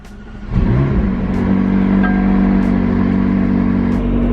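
A McLaren 600LT twin-turbo engine starting up nearby: a sharp crank and bark, then a loud, steady idle that holds for several seconds.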